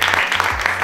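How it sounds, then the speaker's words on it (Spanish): A studio audience breaks into a brief burst of clapping as a cast member of the series Mi Hermano es un Clon is introduced, dense and close, with a voice faintly underneath. "Un aplauso."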